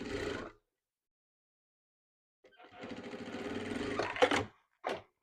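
Sewing machine stitching trim onto animal skin for a traditional garment, with a short burst of running followed by a pause, then a longer stretch of close, steady mechanical whirring that ends in a final brief spurt.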